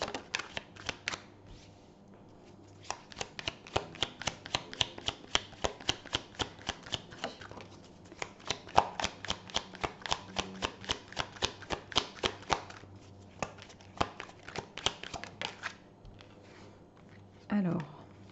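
Tarot cards are shuffled repeatedly in quick, crisp riffles with steady rhythmic flicks, close and clear over a long stretch, with a brief shuffle burst near the end.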